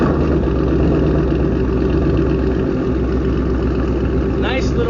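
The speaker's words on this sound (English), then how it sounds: "Nice little growl at the startup. Cold start is good." A Ford Mustang GT S550 with factory cats, an H-pipe and a Roush axle-back exhaust rumbles through a cold start, a loud, steady, close exhaust growl holding evenly throughout.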